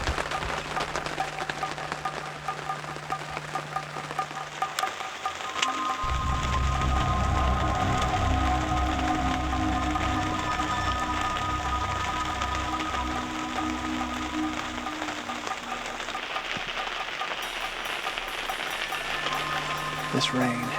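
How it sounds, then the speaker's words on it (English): Steady rain falling outside a hunting ground blind in a field, a constant hiss of drops on surfaces that swells louder midway and continues throughout, with faint occasional talk. "This rain has everything going crazy."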